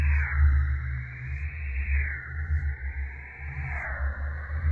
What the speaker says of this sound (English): High pass filter.